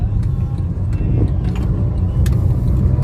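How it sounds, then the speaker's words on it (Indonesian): Cars driving along a busy street in Mecca make a steady traffic rumble, with passing engines and a few sharp clicks and knocks over the constant low drone. "Mobil-mobil, kendaraan-kendaraan di sini sangat-sangat bagus, dan rata-rata mobil mewah"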